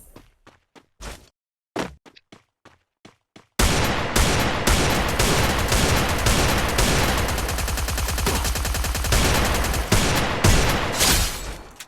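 Gunfire in a shooting video game scoring headshots: a few sparse single shots and footsteps, then a sudden loud, sustained burst of rapid automatic fire that keeps up nearly to the end.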